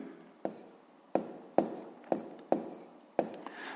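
Pen strokes scratch on paper while math is worked out, six or seven sharp, close taps and scrapes spaced irregularly, each fading quickly into quiet.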